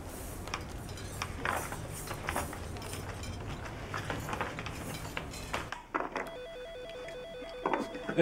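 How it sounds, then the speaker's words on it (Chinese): A telephone rings repeatedly in a quiet indoor room, its electronic trills clear and mid-distance, with faint background clatter and a brief pause before the ringing resumes. "接个电话。"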